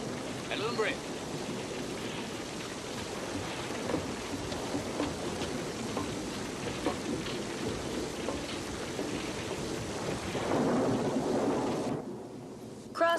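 Steady rain pours throughout, with faint rumbling that could be thunder, while people talk over it in an old western setting; the downpour stays constant and moderately loud before cutting off near the end.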